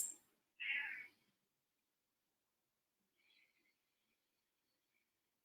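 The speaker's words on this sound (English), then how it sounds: "including my cat meowing" A house cat meows once, a clear drawn-out call near the start, followed by a fainter, shorter meow a few seconds later in an otherwise quiet room.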